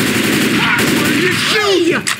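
Rapid bursts of gunfire from the zombie shooter game Left 4 Dead, set in the No Mercy chapter, loud and dense throughout with ringing, whistling tails and a faint voice near the end.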